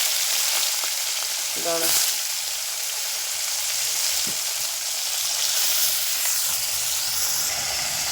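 Morola fish sizzle and crackle steadily in hot oil in a frying pan, a close, continuous hiss with faint stirring, and one brief spoken word.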